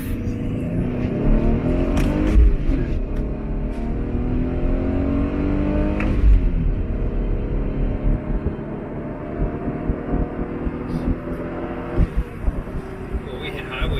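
A Hyundai Veloster Turbo accelerates hard up to highway speed with traction control off, its engine rising through the gears with a clear shift, sustained and loud inside the cabin while a person talks.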